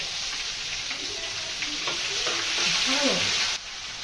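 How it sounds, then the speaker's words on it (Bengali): Garlic paste and spices sizzle and fry steadily in a pan for a chicken roast, with stirring scrapes and a continuous hiss that swells slightly before cutting down near the end. "রোস্টটা রান্না করবো, মশলাগুলো ভেজে নি। কি কি দিলে? রসুন বাটা দিলাম"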